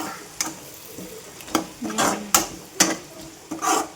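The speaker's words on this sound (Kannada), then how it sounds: "ಈಗ ಕರಿಬೇವು ಹಾಕೋತೀನಿ ಸ್ವಲ್ಪ ಎಲ್ಲ ಮಿಕ್ಸ್ ಮಾಡಬೇಕು" Curry leaves tossed into a pan of frying masala with turmeric and chilli powder and stirred, giving a run of sharp spoon scrapes and clatters against the pan over a soft sizzle, close and fairly loud, with no talking.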